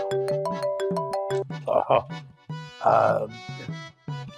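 A phone ringtone plays a repeating electronic melody, interrupted by people talking close by over it.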